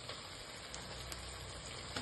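Prawns hitting a hot pan with ginger garlic paste for chilli garlic prawns, giving a steady, dense sizzle and crackle throughout with a few sharper pops and no talking.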